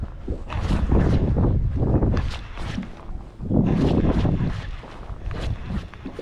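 Strong wind gusts buffet the microphone in rolling surges while pike fishing in shallow water, loud and rumbling, swelling and fading without any voices.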